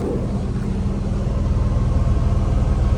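The muffler of a cheap $200 car rumbles with a steady low idle from nearby, a continuous engine drone with a faint pulsing throb.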